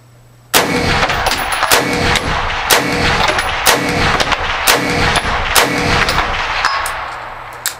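Rapid string of sharp, loud rifle shots from a Remington 700 in .308 fitted with a muzzle brake, fired outdoors on a range; each crack rings with a metallic echo, with no talking.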